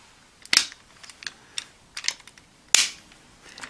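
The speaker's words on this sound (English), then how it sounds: "untab these panels and then tab them in on the front" Plastic panels on a toy robot are untabbed and tabbed back in, giving sharp, close plastic clicks and snaps, two louder ones among several smaller ticks, with quiet gaps between.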